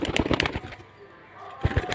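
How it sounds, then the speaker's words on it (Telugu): A pigeon held close by coos in short throaty bursts at the start and again near the end, with a quieter gap in between. "ఇదే ఫ్రెండ్స్ ఎట్లుందో పావురం చూడుర్రి."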